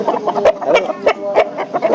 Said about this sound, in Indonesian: Ayam teko Ngawi.